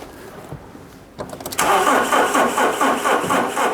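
A car engine cranks briefly with a rapid stutter of the starter, then catches and settles into a loud, steady idle, heard up close.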